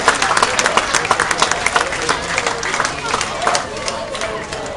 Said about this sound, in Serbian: Ajmo jedan aplauz za sve ove lepotane i lepotice na terenu